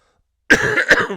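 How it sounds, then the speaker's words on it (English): A single harsh cough, close and fairly loud, with a second rough burst right after. "Man, that cough's coming back, guys."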